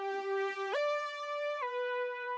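A dry synth lead one-shot with no effects, thin, cheap and tinny, plays a sustained bright tone that steps up once and then drops back down, heard alone.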